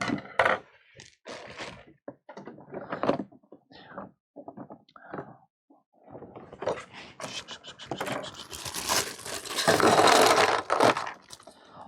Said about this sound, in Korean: 이번에는 가위로 한번 뜯어보겠습니다